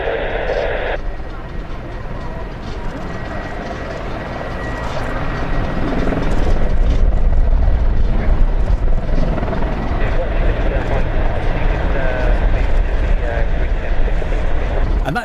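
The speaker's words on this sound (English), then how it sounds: "that sound was coming from the engines of the German aircraft that was directly behind us" Military jet engines of a German aircraft roar loudly at an air show, a broad sustained rumble that swells and grows louder partway through, with wind buffeting and crowd noise mixed in.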